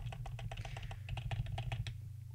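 Keys on a computer keyboard are pressed in a quick, even series of about fifteen crisp clicks while moving through text in the Vim editor, over a low steady hum.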